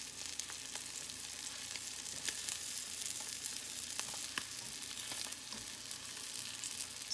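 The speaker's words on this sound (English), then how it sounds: "this doesn't even take that long to pan-fry, but I like my meat cooked" Fish pan-frying in a pan gives a steady, close sizzle with scattered crackling pops and spits throughout, no talking.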